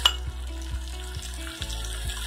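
Green chillies fry in hot oil in a pan for Jain brinjal bharta, a steady close sizzle with a few soft scraping stirs.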